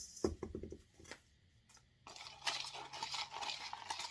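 Potting soil being mixed by hand in a small plant pot, a few soft scratchy rustles and taps early on, then a louder, steady gritty stirring and scraping of the mix.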